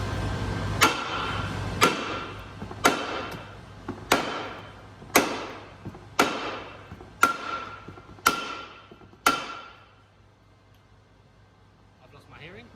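Steel hammer striking a lower control arm bush on a Vauxhall Corsa VXR, nine loud ringing metallic blows at a steady one-per-second rhythm, close up, then quiet.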